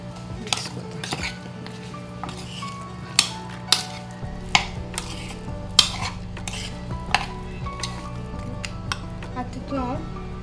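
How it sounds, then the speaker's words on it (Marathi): Metal spoon scraping and clinking in a pan as chili powder and pepper powder are stirred into chicken, with repeated sharp knocks over a steady low hum and faint sizzling. "थोडो चिली पावडर थोडो पेपर पावडर आणि बरें मिक्स करता"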